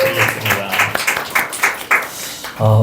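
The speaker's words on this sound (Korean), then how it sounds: "우리 환영합니다라고 박수 한번 드리겠습니다." Short burst of congregational clapping during a Sunday church service, welcoming visitors; uneven claps rise and fall for a couple of seconds, with a brief tone at the end.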